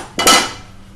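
Chukka kura (Indian sorrel leaves) tipped into a vessel of mutton, giving one brief, bright clatter of metal cookware and utensils that quickly fades.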